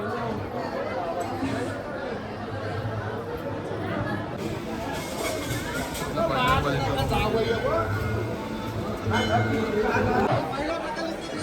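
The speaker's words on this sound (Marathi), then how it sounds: "खूप गर्दी झालेली आहे पा पडायला सगळे गावातली मंडळी येत आहेत" Dense chatter of a village crowd gathered at a Satyanarayan mahapuja in Rajpuri Koliwada, Murud Janjira, many overlapping voices forming a steady close hubbub that swells at times.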